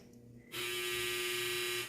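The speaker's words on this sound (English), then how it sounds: "Oh, that's my dryer." A loud electronic clothes dryer buzzer suddenly sounds after quiet room noise, a steady continuous drone that holds until the end.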